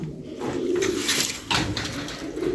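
Close, low cooing from tumbler pigeons rolls on continuously over a steady mechanical drone from a Lombardini water pump engine, with a brief bright rustle in the middle.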